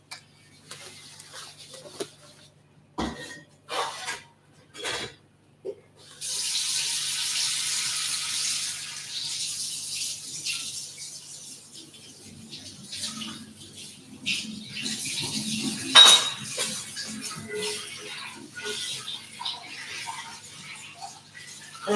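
A pan is rinsed out under a running kitchen tap after cooking kuku sabzi, with a few clanks of handling first, then a steady stream of water splashing in the sink for several seconds before slowing to drips and clatter.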